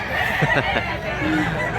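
A large two-year-old rooster at a chicken seller's stall gives a moderately loud crow over a background of market clatter.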